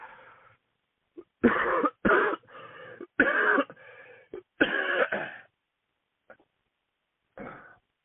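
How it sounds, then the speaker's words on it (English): Several rough coughs and throat-clearing bursts come in clusters, close and fairly loud, separated by short silences. "I'm coughing too much because I'm doing too much"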